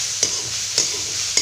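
Chicken liver frying in a pan is stirred three times at an even pace, each scrape standing out over a soft, steady sizzle, close and alone.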